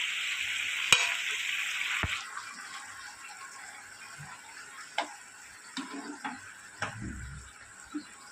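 Fried chhana (paneer) koftas simmering in a thin, watery gravy: a low bubbling hiss with scattered clicks and taps from the pot, plus a few soft knocks of a spoon.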